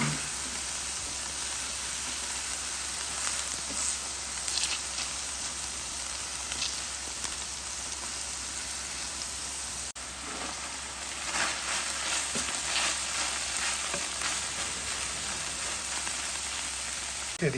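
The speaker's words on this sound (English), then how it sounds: "And we're going to saute those up while that meat continues to cook." Onions and meat sizzle and fry steadily on a Blackstone 17-inch E-Series griddle, a soft continuous crackle with faint scraping, heard alone throughout.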